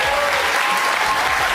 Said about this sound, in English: And they're out here clapping for it